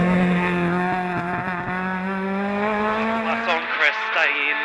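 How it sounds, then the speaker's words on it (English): A Toyota Corolla rally car engine with a leaking exhaust drones loudly and close, its raspy harmonic tone holding steady and then climbing as the revs rise, with a few sharp bursts near the end. "we've got a bit of an exhaust leak, as you can hear"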